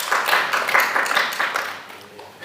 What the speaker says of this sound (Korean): 우리 격려의 박수 한번 쳐드려요